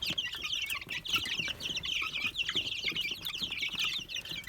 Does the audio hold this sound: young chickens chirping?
yes